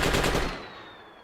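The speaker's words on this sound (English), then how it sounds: "It's the gunner on that side of the Huey is engaging" A door gunner's machine gun on a Huey helicopter in the Arma 2 video game fires a loud, dense burst for about half a second, then the sound trails off into a fading echo.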